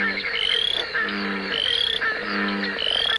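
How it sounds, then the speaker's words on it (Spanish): A chaotic chorus of frogs giving mating calls, loud repeated trilling croaks and bright chirps overlapping in a steady pulsing rhythm, with no voices. "Ahí nosotros oíamos una mezcla de sonidos caótica, pero las ranas pueden distinguir perfectamente cuál es el llamado de su especie"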